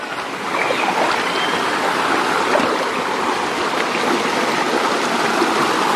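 Clear mountain stream flowing in an upstream valley, a steady close rush and burble of water over rocks throughout, continuous and fairly loud with no talk.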